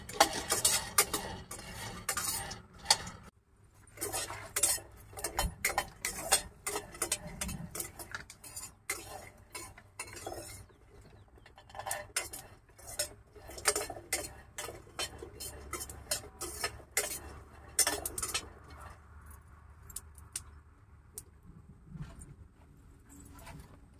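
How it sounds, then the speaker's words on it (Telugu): Peanuts roasting in a pan for peanut pulao, stirred with a utensil that clinks and scrapes against the metal in irregular, close bursts throughout, with no one talking. "దానికోసం అని చెప్పి పల్లీలు వేపుకోవాలి"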